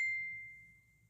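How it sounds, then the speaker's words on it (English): Mobile phone notification ding, a single bright chime that rings out and fades over about a second, alone and close. "my phone's always dinging."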